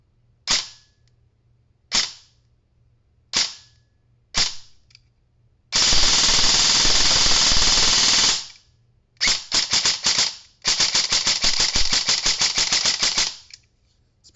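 A VFC BCM MCMR airsoft rifle with a stock gearbox fires close by on a Li-ion battery: four sharp single shots spaced apart, then a long full-auto burst, a short broken string, and another sustained burst.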